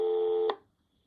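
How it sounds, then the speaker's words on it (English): A steady telephone dial tone from a Celta Jack ATA outside-line port, holding clear and level for about half a second before a short click cuts it off, leaving silence. "Celta Jack will bring back the dial tone."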